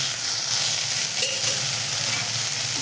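Okra slices frying in oil in a pan, a dense, steady sizzle that stays loud and close for the whole stretch with no voices over it.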